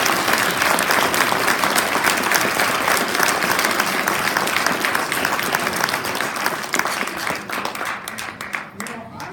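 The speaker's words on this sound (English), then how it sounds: "How about a round of applause?" An audience applauds at a district competition session, steady dense clapping that fills the room and stays loud before thinning slightly toward the end.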